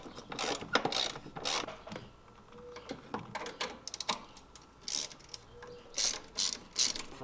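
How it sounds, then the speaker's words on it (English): Clamps come off a turbo intake tube at the airbox and turbo ends, with bursts of ratcheting clicks, scraping and clinking of tools and parts, near and fairly quiet. "You want to take the factory clamps off of the airbox side and the turbo side."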